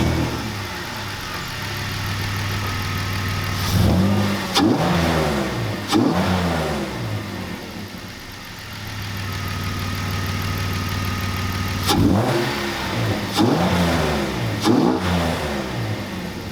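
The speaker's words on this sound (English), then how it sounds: "So you're gonna hear that revving pretty much the whole entire video." A BMW E36 engine revs repeatedly, rising and falling in several bursts over a steady idle, loud and fairly close, with no talking.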